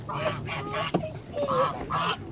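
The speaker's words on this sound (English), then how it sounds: "What the heck ails all these geese?" Several geese honk in quick, harsh bursts close by, an agitated flock calling over and over with a short sharp squawk in the middle.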